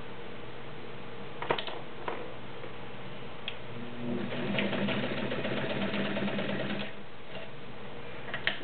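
A retro all-metal heavy-duty dressmaker sewing machine in green and cream pearl stitches through four layers of denim, a fast mechanical ticking hum with a few sharp clicks, close and steady.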